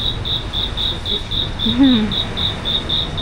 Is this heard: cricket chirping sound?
yes